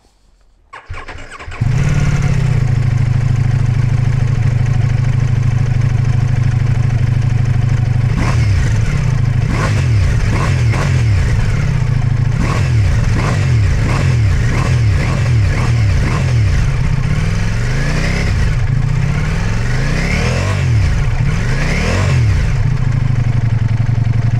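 A Ducati Multistrada V4S with a slim, quiet exhaust cranks and fires up, settles into a close, loud idle, then is blipped repeatedly in sharp revs that rise and fall.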